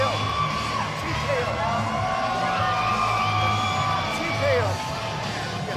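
A live crowd at a Power Slap event at the Fontainebleau, Las Vegas, whoops and cheers continuously while a commentator talks over the noise.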